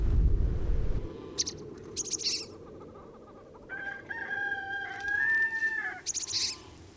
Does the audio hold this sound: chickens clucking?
yes